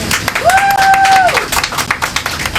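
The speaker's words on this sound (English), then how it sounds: "Round of applause." Small group of passengers on a trolley tour applauding, scattered uneven claps with a brief whistle-like tone near the start, fairly close and loud.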